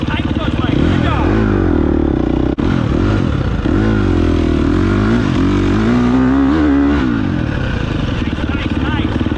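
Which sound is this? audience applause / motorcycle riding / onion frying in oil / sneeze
motorcycle riding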